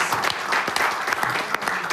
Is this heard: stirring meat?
no